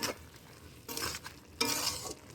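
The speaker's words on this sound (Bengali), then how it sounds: "এবার এটাকে ভালো করে একটু নেড়ে দেবো" Green bean chorchori stirred in a kadai with a little sugar added, giving two bursts of scraping, sizzling stirring over a steady low fry, close and fairly loud with no talk.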